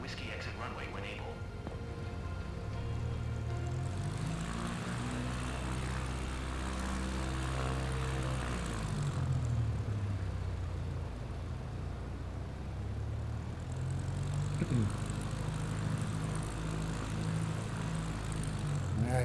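CubCrafter propeller plane in Microsoft Flight Simulator 2024, a steady droning engine hum that rises and falls in pitch through the whole stretch, with a radio voice talking over it.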